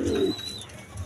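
A single pigeon gives a short low coo close by, a brief soft warble at the start of the moment, with faint background noise and a thin high tone after it.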